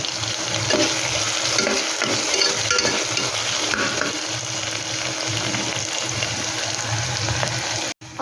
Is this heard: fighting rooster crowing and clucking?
no